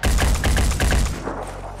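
Gunfire in the turn-based strategy game Phoenix Point: a rapid burst of about a dozen loud, close shots in quick rhythm, ending abruptly and followed by a short fading rumble.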